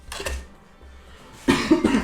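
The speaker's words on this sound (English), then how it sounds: "She coughs." A single woman coughs a couple of times, close and fairly loud, with a short quiet gap between the coughs.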